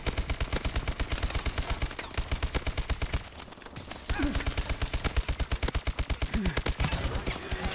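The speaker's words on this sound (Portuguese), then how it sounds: "tô dando muito tiro pra matar" Rapid, sustained LMG fire from the Pytaek in Call of Duty: Advanced Warfare multiplayer, long bursts of dense rhythmic shots with a brief pause midway, loud and up front, with no voice over it.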